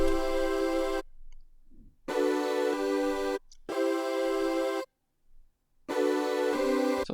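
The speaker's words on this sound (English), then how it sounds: "I've also added chords just because I like the sound of it." Synth bass line with added sustained synth chords, playing in blocks separated by silent gaps, fairly loud with no speech.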